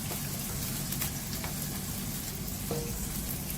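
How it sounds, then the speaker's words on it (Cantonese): Dried shrimp sizzling in hot oil in a wok with ginger slices over high heat, a steady close crackle that runs the whole time with light stirring. "爆香啲蝦米"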